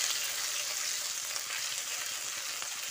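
Crushed ginger and chopped garlic frying with onions in a pan for a cabbage dish, a soft, even hiss of oil sizzling throughout, faint and close, with no talking.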